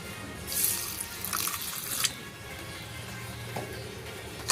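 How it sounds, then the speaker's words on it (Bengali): Water poured over mustard seeds with green chillies in a grinder jar while making a paste for mustard hilsa, a close splashing pour lasting a couple of seconds, then quieter trickles. "এবার আমি দিয়ে দিচ্ছি জল।"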